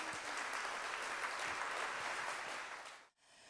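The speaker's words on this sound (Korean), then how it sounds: "격려의 박수를 쳐주실 거면 고생한 저희 대학원생들한테 박수를 쳐주시면" An audience applauds at the close of a lecture, a dense, steady patter of many hands clapping that carries on evenly, then drops away sharply near the end. There is no talking.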